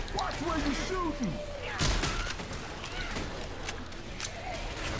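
Gunfire in Left 4 Dead 2 during a Silent Hill: Other Side of Life mod horde fight, with several sharp shots and bursts over a steady rumbling game background while players talk.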